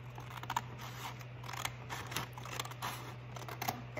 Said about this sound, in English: use a pair of scissors and cut